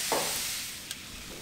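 Goat meat sizzles steadily on the heat, a soft continuous frying hiss with a couple of faint clicks, fairly quiet and without voices.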